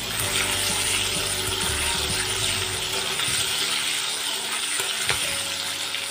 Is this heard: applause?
no